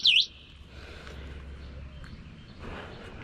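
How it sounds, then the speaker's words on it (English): A single short, bright electronic chirp from an e-bike alarm sounds at the very start, then only a low steady hum fills the rest. "I guess that was the little warning chirps at first"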